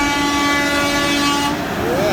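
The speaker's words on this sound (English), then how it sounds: "Come on, give me some horns, man." Car horns blare in long sustained tones from a convoy of vehicles at a Trump rally in California, loud and continuous, with someone shouting encouragement over them.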